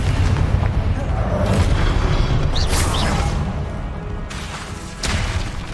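Confringo explosive spell blasts in Hogwarts Legacy, a dense, loud booming roar that fills the whole stretch, with a fresh burst near the end.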